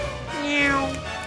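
A person imitates a cat's meow with a single drawn-out, rising and falling vocal mew, close and moderately loud, during casual chat over a Star Wars Battlefront game.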